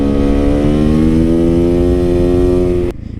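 A Suzuki DRZ 400SM motorcycle engine holds a loud, close, buzzing rev that climbs slightly in pitch, then cuts off abruptly into a low idle.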